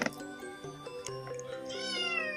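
A cat meows repeatedly in a kitchen while chicken skin is being cooked for breakfast, with clear, close, rising and falling harmonic cries over faint background sound.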